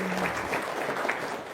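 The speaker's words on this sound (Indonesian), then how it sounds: "Tepuk tangan" A seated audience at a religious talk gives a brief burst of clapping, dense and steady for just over a second.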